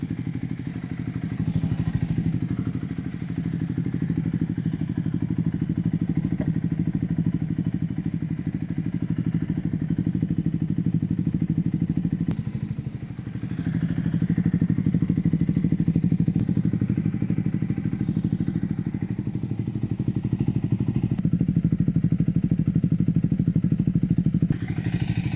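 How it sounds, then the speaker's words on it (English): A Triumph Scrambler 400 motorcycle idles while parked, a steady low engine rumble running throughout with occasional clatter and thumps nearby. "Running the engine as I do this because I just don't want to kill the battery."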